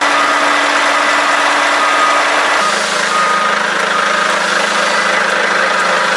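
A dump truck's heavy diesel engine runs continuously at a steady idle, its tone shifting partway through as the load changes while the bed lifts to dump crushed stone, with a constant mechanical drone.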